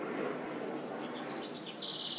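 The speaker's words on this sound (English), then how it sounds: "taking a video of the birds. Look at the birds." Baby birds chirping outdoors, a soft steady wash of high, thin peeps and tweets over about two seconds with faint background noise and no talking.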